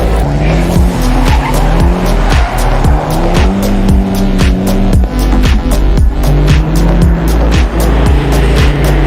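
A rally car in a winter race runs hard and continuously loud and close, its engine revving up and down through repeated gear changes with skidding and tyre noise.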